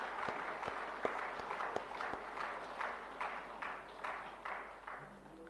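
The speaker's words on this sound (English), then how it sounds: "We all welcome him with a round of applause." An audience at a golden jubilee celebration applauds to welcome an arriving bishop: continuous soft crowd clapping with some sharper individual claps standing out early, steady and fairly close, tapering slightly at the end.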